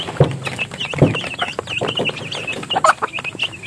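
Several chickens cluck and chatter close by in quick, overlapping bursts, with a few sharper squawks mixed in over a busy background on a Philippine minifarm.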